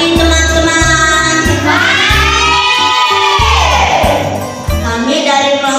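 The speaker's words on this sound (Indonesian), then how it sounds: "beri tepuk tangan dulu kelompok kilometer" A classroom group of students is applauded with loud, steady clapping that runs through the whole stretch, mixed with children's cheers, shouts and whoops close by.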